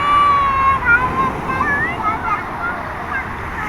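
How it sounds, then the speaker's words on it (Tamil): Big ocean waves surge and wash steadily at a beach as a broad roar, with wind buffeting the microphone. Faint voices and a thin whistling tone sit above the surf. "ஜாலியா பெரிய அலை வருது."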